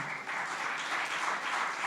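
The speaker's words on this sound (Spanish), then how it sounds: "Dale un aplauso al Señor" Congregation applause during a Christmas church service, a steady dense wash of many hands clapping at once, sustained and fairly even throughout, with no talking over it.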